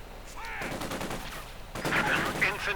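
In Company of Heroes, a Maxim machine gun fires rapid bursts at close range, mixed with other gunfire and battle noise and a brief voice.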